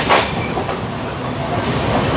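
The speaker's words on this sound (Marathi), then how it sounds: "आता आपण बायका रेल्वे स्टेशनवरून पण निघतो" Mumbai local train pulling out of Byculla station, a steady rumbling roll of wheels with clickety-clack and a brief high screech at the start, heard from on board and continuous throughout.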